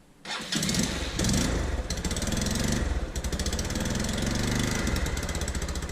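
A Honda CBF 150 motorcycle engine under repair cranks and fires up, then runs with a steady, loud, slightly uneven putter close by, with no voices over it.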